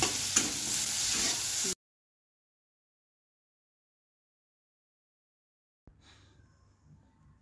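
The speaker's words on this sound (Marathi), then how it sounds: "आता आपण या जी 2-3 चमचे जी डाळ काढली आहे शिजवलेली तीही परतून घेणार आहोत।" Masala and a few spoonfuls of cooked dal are roasted in a pan for traditional katachi aamti, a brief close sizzle with stirring scrapes, then silence, then a fainter sizzle returns.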